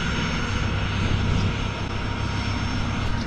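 Steady, loud drone of a tour airplane's engine at the Grand Canyon airport, a constant low rumble with a faint high whine that holds evenly throughout, with no talk over it.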